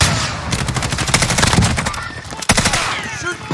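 Dense, rapid automatic gunfire rattles continuously in Call of Duty: Modern Warfare's Operation Crosswind Spec Ops co-op mission, with a sharp louder crack midway and voices faintly mixed in.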